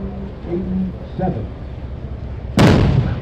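A ceremonial cannon salute fires at Battery Park, New York City, on the Fourth of July: one sudden loud booming blast cracks out late, after quieter murmuring crowd and voices in the open air.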